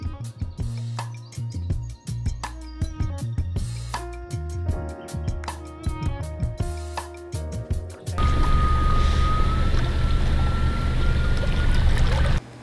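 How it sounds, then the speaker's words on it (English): A Tesla-powered mini jet boat fitted with a Model 3 motor runs on the water, a loud, steady rushing roar with a thin whine on top, coming in after several seconds of music. "It is a Tesla-powered mini jet boat."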